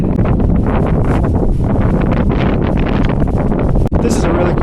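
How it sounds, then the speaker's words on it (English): Strong wind buffets the microphone at a scenic outdoor spot in Page, Arizona, a loud continuous roar and rumble that runs throughout with a brief dip near the end. "it's getting pretty windy here"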